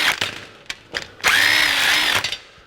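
A power tool whirs in short bursts and then one longer run while removing bolts from the frame fixture of a 1982 Jeep CJ7, close and fairly loud.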